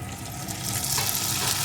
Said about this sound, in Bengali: আলুটাও সুন্দর করে ভেজে নেব